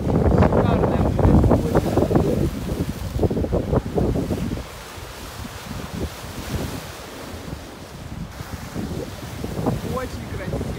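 Stormy sea crashing on the shore, with loud rushing waves breaking, strong wind buffeting the microphone, and a quieter lull midway before the surf builds again.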